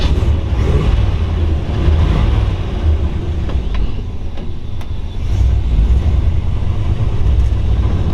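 A 1940 Ford Deluxe Convertible engine runs at a steady idle, a loud, close, continuous low rumble with slight swells and no talk over it.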